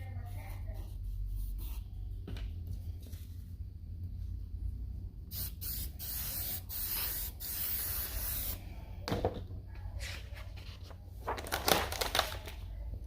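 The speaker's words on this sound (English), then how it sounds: "¿Por qué utilizas el spray y aplicas al final?" Several short hissing bursts of aerosol fixative sprayed onto a charcoal drawing on paper, with light rustling and handling noises between them over a low background hum.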